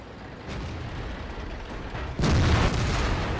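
A tank shell striking and bouncing off armor in World of Tanks, a sudden heavy boom and clang that jumps out of a steady rumbling engine and battle background, then a sustained roar afterward.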